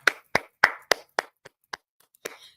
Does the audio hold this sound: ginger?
no